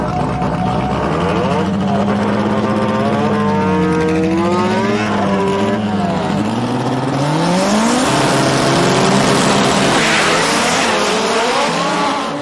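Drag race cars running side by side at an ATCO Pan American Nationals event, loud engines revving and sweeping through rising and falling pitch, roaring continuously up close with a brief tire squeal.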